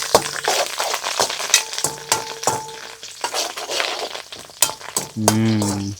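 Curry leaves sizzling and spitting as they fry in hot oil for a spicy quail gravy, with crackling bursts and clinks of a spoon stirring against the pan.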